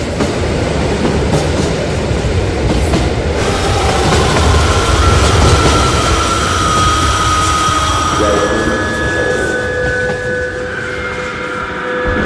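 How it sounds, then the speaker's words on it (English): A train rolls along rails in a Roblox game, a loud continuous rumble with rhythmic clatter and faint rising tonal whines as it moves, no voices. "The train is leaving."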